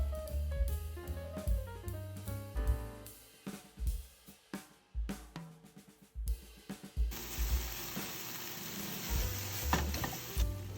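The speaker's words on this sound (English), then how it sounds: "Then add the konnyaku and cook about 3 to 4 minutes until renkon is slightly transparent." Sliced lotus root and konjac sauté in a pan, with stirring and soft frying sounds over tonal background music that swell into a steady, louder sizzle in the final few seconds.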